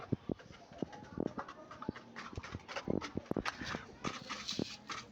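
Pigeons in their coop at feeding time, scattered close flutters, pecks and soft shuffling knocks with faint cooing in the background.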